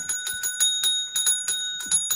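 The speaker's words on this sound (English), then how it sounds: "make that bell louder" Rapid repeated rings of a small bell, a dozen or so bright metallic strikes in quick bursts with a sustained ringing tone between them, close and fairly loud, no speech.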